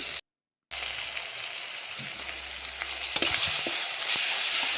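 Loud, steady sizzling of frying in a pan while cooking fish curry, with scraping stirring strokes near the middle, after a brief moment of silence at the start.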